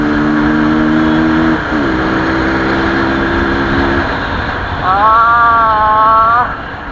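A car engine revs in steady tones while the gear fails to engage, holding one pitch, dropping and holding again, then jumping to a higher wavering whine before falling back, loud and close.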